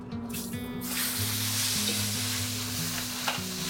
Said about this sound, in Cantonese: 你就要佢沙沙聲，就唔好好似頭先啦，好靜咁樣